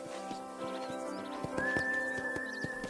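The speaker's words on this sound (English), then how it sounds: "And here's the corral. This one's for the horses." Horses in a PS4 video game clip-clop in a steady, rhythmic trot near a corral, with a neigh rising over the hoofbeats partway through, and no talking.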